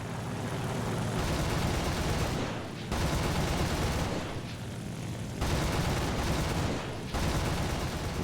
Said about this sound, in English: a well-aimed burst of machine gun and cannon fire takes him out